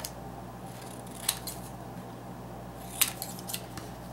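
Scissors cut out a small paper square from a card, two crisp close snips a couple of seconds apart against a quiet room, with no speech.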